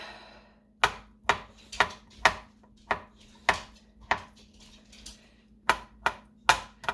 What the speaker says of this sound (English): let's slice these potatoes